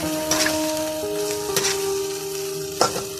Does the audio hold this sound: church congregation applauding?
no